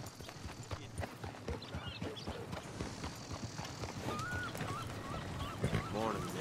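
Steady clip-clop of horse hooves trotting along in Red Dead Redemption 2, mixed with ambient outdoor sounds, a brief whinny-like call near the end.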